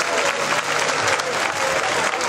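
An audience claps steadily and loudly in a dense, continuous burst of applause, with some crowd murmur mixed in and no break.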